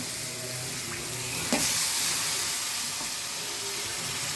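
Meat fries in a pan with cinnamon and cardamom, giving a loud, steady hiss. A burst of sizzle and scraping comes partway through as the spices go in, and the sound stays up close without voices.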